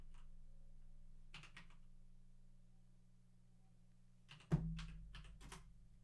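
Short clusters of soft, clicky keystrokes on a computer keyboard, two brief bursts of typing separated by quiet, the second followed by a small thump, all faint and close with no talking.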